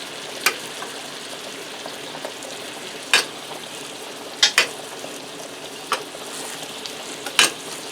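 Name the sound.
garlic butter sizzling as it is spooned over pork chops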